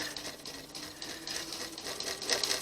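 A sewing machine fitted with a walking foot stitches binding onto the rough edge of a quilt, running in a fast, even mechanical whir with rhythmic needle clatter, close and fairly quiet, with no voices.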